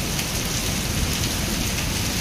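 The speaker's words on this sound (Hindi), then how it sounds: "भयंकर वर्षा।" Heavy rain pours down steadily, a dense, loud hiss of drops drumming on surfaces, with no voices.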